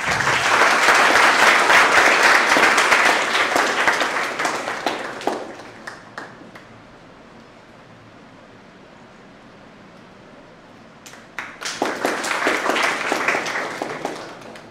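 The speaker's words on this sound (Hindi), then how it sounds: "तालियां बजती रहनी चाहिए।" Audience applause at a school session in India, loud dense clapping for about five seconds, fading to near silence, then swelling again in a second loud burst toward the end.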